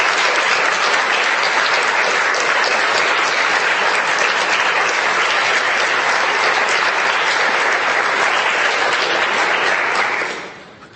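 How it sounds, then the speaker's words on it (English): Long, steady audience applause at a relaxed weekend get-together, a dense wash of many hands clapping at full volume throughout before it trails off at the very end. "we had to give her the long applause"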